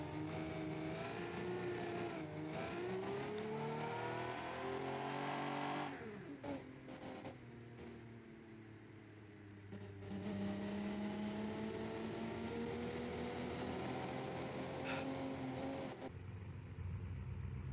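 A race car in the BeamNG.drive game roars along with a sustained engine drone, rising and falling through gear changes, easing off briefly mid-way, then pulling hard again.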